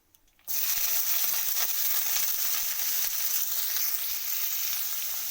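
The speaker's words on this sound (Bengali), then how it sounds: "তো এগুলোকে আমি ভালো করে লাল লাল করে ভেজে নেব পেঁয়াজ আর রসুনটা" Chopped onion and whole garlic cloves hit hot oil in a pan after a brief quiet moment, bursting into a loud, close sizzle that stays steady and crackling, with occasional soft stirring.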